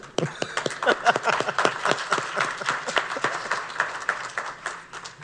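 Audience at a live conference panel claps in a dense burst of many hands, loud and close, gradually thinning toward the end with no talk over it.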